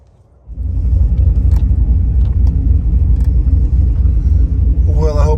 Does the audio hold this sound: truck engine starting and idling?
yes